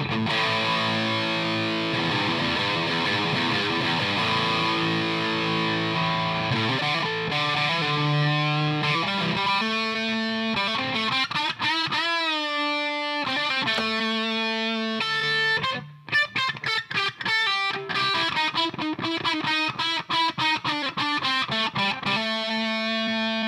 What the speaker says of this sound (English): turn gain 2 up. It's my favorite, gives you a lot more distortion.